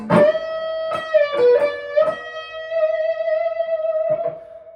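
Solo electric guitar lick: picked notes, a bend up and back, then a long sustained note wavering gently with vibrato, no voices.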